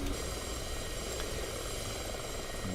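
A helicopter in the flight simulator DCS, its steady, droning engine and rotor hum running continuously and close throughout, with no talk over it.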